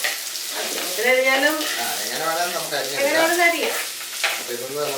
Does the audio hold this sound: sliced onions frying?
yes